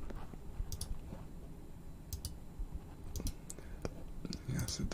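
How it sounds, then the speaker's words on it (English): Computer mouse clicks tap out in quick, sharp pairs and small groups, close and crisp, against a soft breathy background during a quiet ASMR-style stream with faint whispering. "mouse clicks just to add something."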